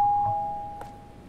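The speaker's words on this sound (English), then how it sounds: "Doorbell intercom." A doorbell intercom rings in the horror video game Night Delivery, set in a haunted Japanese apartment building: a single clean electronic tone, fairly loud and fading over about a second, with no talking.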